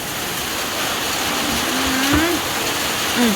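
Steady rain hisses continuously, with a faint voice and a brief whistling tone rising over the wash of falling water.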